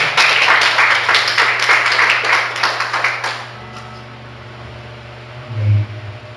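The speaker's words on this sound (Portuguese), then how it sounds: "Dê um aplauso ao Senhor Jesus." A church congregation claps for several seconds, loud and fairly dense, then the applause stops and a steady hum with low room noise remains, with a brief low thump near the end.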